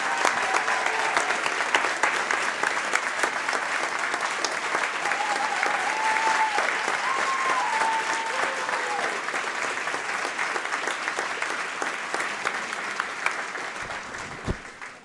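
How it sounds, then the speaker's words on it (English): A large meeting audience applauds students standing to be recognized, a dense, steady wash of clapping that holds for the whole stretch, loud and continuous, with a few faint tonal whistles and voices threaded through. "could we get all of our students to stand up so we can do a huge round of applause"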